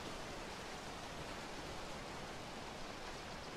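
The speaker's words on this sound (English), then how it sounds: "Ooh, nice waterfall." Waterfall in the Rival Shores map of the video game BoB, a soft, even hiss of falling water that stays constant and faint throughout, heard alone with no voices.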